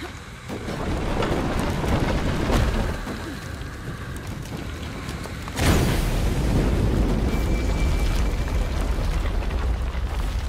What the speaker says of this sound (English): Another explosion would raise the platform.